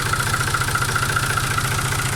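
A tractor's diesel engine idles steadily with a faulty stop solenoid, giving a close, loud, even low chugging pulse with a constant mid-pitched mechanical whine over it, running on without stopping.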